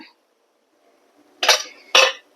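Two sharp metallic clanks as a lid is set on a steamer pot of boiling water in a home kitchen, close and distinct, with a brief faint sound before them and quiet in between.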